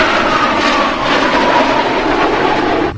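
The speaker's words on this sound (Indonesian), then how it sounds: "Masih ada pesawat jet Sukhoi." A Sukhoi jet aircraft roars steadily and loudly overhead, a continuous broad engine rush that holds for the whole stretch before cutting off abruptly at the end.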